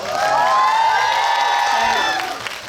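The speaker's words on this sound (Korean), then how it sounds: "여러분들 박수 부탁드립니다." Cheering and applause from an audience at a film talk event in a cinema hall, high excited shouts and whoops held for a couple of seconds before fading.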